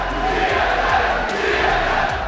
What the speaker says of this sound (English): Ooh, you got a boo.